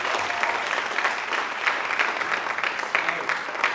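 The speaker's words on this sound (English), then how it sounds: "Let's have another round of applause for Kevin Hodgson." An audience claps at a high school movie festival, a dense, steady roar of many hands that holds at an even level throughout with no voices breaking through.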